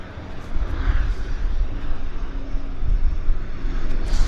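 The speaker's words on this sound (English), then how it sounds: "this is Helijet's Medevac Learjet." A Helijet medevac Learjet at Vancouver Airport produces a steady, broad engine roar that holds loud and close throughout, with no talk over it.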